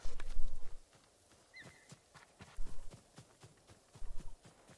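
Horse hooves clip-clopping in the Ghost of Tsushima video game, a few close, crisp hoof strikes in a loose walking rhythm with low thuds, heard alone.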